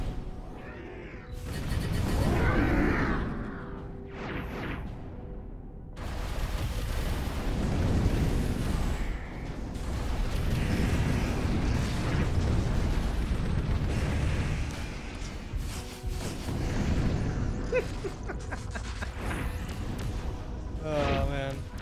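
Missile explosions in the Overload space shooter, rolling booms and rumbling bursts that swell and fade in waves over half a minute, loud and continuous, with people talking over the action.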